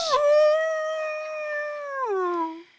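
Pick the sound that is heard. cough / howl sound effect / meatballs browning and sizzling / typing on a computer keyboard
howl sound effect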